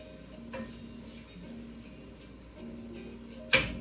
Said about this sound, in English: You can see that garlic really starting to cook there.